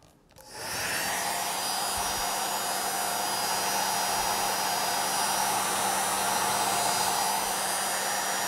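A hair dryer switches on and blows with a steady, loud whooshing hum that continues without a break.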